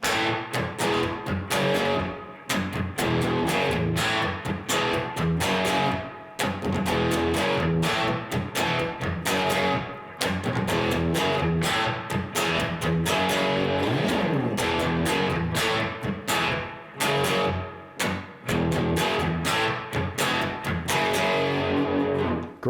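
A distorted electric guitar chugs through a tight power-chord riff, with muted percussive chika strums locking into a steady, driving rhythm.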